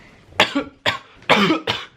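Four harsh coughs in quick succession, close and loud, with no talking.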